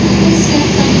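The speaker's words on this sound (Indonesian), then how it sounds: "Ini dia kereta api Argo Dwi Pangga." Argo Dwi Pangga passenger train passing close by, a loud steady rumble and roar with no clear breaks across the short stretch.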